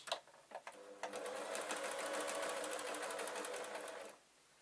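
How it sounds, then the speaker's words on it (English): After a couple of soft clicks, a sewing machine runs steadily up a jelly roll strip for a log cabin quilt, close and continuous for about three seconds before stopping abruptly. "we sew the same again, exactly the same as if you were doing it with cut pieces"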